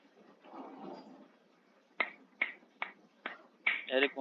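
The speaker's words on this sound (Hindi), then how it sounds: "कौन तालियां बजा रहा है?" Someone clapping during an online class, a series of five sharp, evenly spaced claps ending in a quick double, heard through a call connection after a stretch of faint murmuring.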